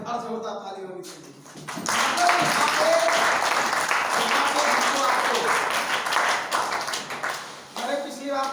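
Sustained audience clapping at a health care company meeting in Raebareli, a room full of people applauding steadily for several seconds, with speech before and just after.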